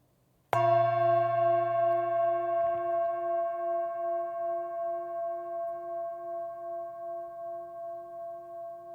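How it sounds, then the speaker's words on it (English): A meditation bell is rung once with a sharp, clear strike, then its bright tone hangs and slowly fades with a gentle pulsing shimmer for several seconds, with nothing else around it. "as I ring the bell"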